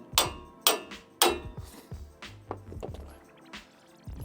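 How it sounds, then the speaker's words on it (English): Several sharp metallic taps from a small hammer seating a bolt while replacing a control arm on a 2004-2008 Ford F-150, close up and irregularly spaced, three strong strikes first, then lighter knocks and handling noise. "bolt in, tap with a little hammer"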